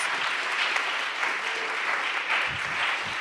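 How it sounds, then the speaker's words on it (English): Audience applause fills the room at the opening ceremony of the Boulder Fringe Festival at Pine Street Church, a steady dense wash of clapping throughout with a few low thumps near the end. "we just have to give another huge, outrageous round of applause to David and the Pine Street Church"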